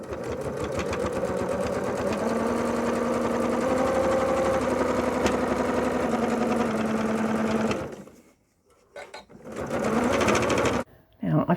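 A sewing machine stitches a row through quilt-as-you-go fabric with backing, running steadily and loud for about eight seconds, then stopping and briefly restarting in short bursts.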